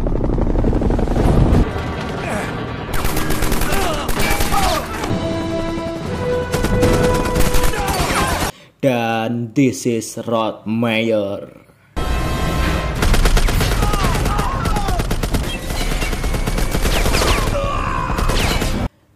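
Helicopter rotor drone with bursts of rapid gunfire and dramatic music in a prison-escape film scene, briefly broken by someone speaking over a radio before the shooting resumes.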